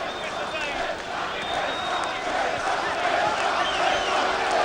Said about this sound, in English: the chants go up from the Danish supporters